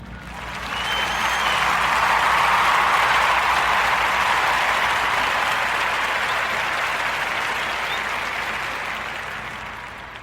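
A crowd gives a warm round of applause, a broad continuous roar of many clapping hands that swells early, holds steady, then slowly tapers toward the end.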